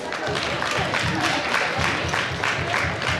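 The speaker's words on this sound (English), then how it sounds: "Everyone, I want you to clap it up for our panelists." An audience at a breakfast gathering applauds its panelists with a dense, steady wash of clapping that holds at an even level for the whole stretch, with faint rhythmic thumps underneath.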